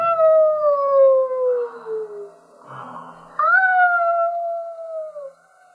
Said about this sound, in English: Then it was a little tiny puppy dog.